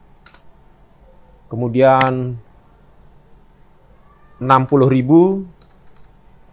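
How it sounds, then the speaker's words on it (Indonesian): Numbers are typed on a computer keyboard into an Excel spreadsheet as soft, sparse key clicks in a quiet room, mostly underneath someone speaking in two short bursts. "Kalau misalkan saya mengetik angka ini seperti ngetik angka biasa"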